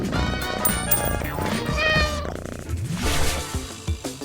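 A cat meows several times in drawn-out, wavering cries, close and loud, with some soft bumps and shuffling around it.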